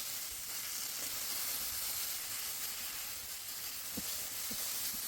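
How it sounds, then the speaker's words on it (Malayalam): Chopped banana frying in ghee until golden, a steady soft hiss and sizzle running throughout with a couple of faint pops, no voices. "കുറച്ചു നല്ല നെയ്യിൽ അരിഞ്ഞു വെച്ച പഴം ഗോൾഡൻ കളർ ആക്കി ഫ്രൈ ചെയ്തു എടുക്കാം"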